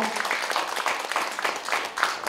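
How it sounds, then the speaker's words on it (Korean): An audience at an awards ceremony claps steadily throughout, a continuous patter of hands at moderate volume, with voices mixed in beneath it. "여러분 박수 주시기 바랍니다"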